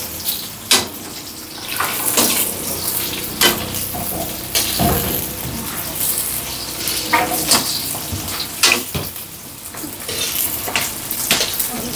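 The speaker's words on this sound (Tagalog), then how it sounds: "Kailangan po maluto yung sibuyas." Onions frying in a pan, a steady close sizzle with occasional clinks and scrapes of stirring, fairly loud and continuous.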